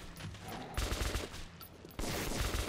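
Gunfire in the first-person shooter Metro 2033 Redux, with bursts of rapid automatic shots and heavy reports in quick succession, loud and close.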